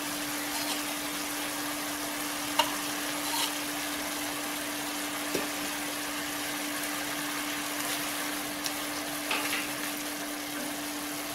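Amla gooseberries cooking in jaggery syrup in a pan give a constant soft sizzle and bubble, with a steady hum underneath and a few small ticks.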